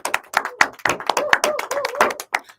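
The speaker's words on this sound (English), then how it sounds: "Let's give them a round of applause." Sparse, uneven clapping from a small audience at a Solana gaming event, individual hand claps distinct and fairly close, a thin burst lasting a couple of seconds.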